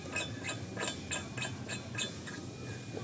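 Wrench ratcheting a nut onto an inboard boat propeller shaft, a quick series of about eight crisp metallic clicks in a steady rhythm, close but fairly quiet, with no talk.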